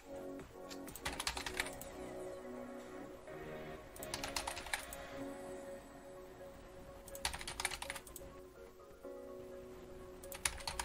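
Fingers type rapidly on a computer keyboard in several clustered bursts of close, crisp key clicks, separated by short pauses over a steady low background hum.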